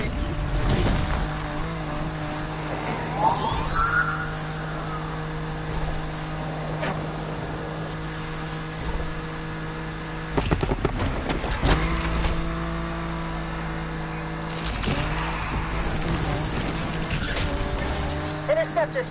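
Police patrol cars chase through Need for Speed Unbound, with engines droning steadily, surging revs and sirens over a continuous race soundscape. Radio chatter and talk run under it.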